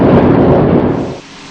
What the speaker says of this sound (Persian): قسمت‌هایی از تونل نیز با انفجار مورد حفاری قرار گرفت